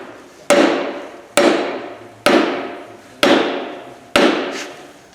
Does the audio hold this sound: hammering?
yes